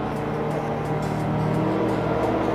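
Race cars in Forza Motorsport 3 give off a steady engine drone at moderate volume, with a constant hum from nearby traffic and no sharp changes.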